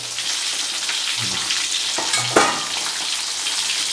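Large pieces of fish-sauce-marinated beef fry in hot oil in a pan, a steady close sizzle with a few brief bubbling bursts and stirring sounds.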